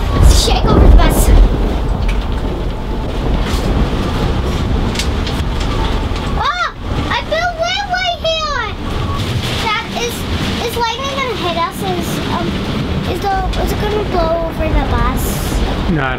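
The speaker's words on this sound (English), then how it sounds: "this is a good old-fashioned Texas storm" A Texas thunderstorm heard from inside a bus, with heavy rain and wind making a loud, continuous roaring wash while voices, including a child's, talk over it.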